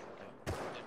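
A single sharp gunshot bursts out midway through a brief stretch of muffled background noise during a firefight in the survival video game Rust.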